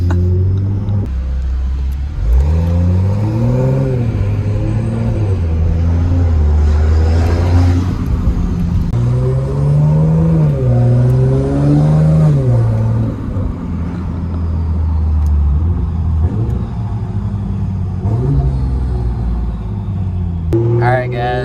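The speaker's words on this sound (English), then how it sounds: "we're currently driving out to Mexico right now" A Toyota Supra MK5 with a flex fuel kit drives along a road toward Mexico, its engine droning low inside the cabin and rising and falling in pitch through several gear changes, while people talk over it.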